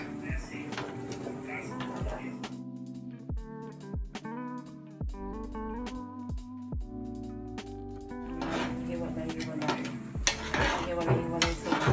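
Coconut milk stirred in a pan while it cooks down into latik, a Bicol-style snack: spoon scrapes and clinks against the pan with a soft sizzle, while someone talks over it.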